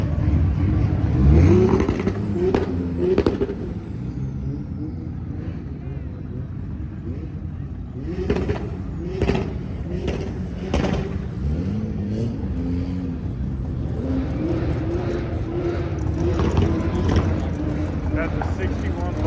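Cars at the SEMA show revving past with popping, crackling exhausts, a steady engine rumble with sharper bursts, heard under nearby people talking.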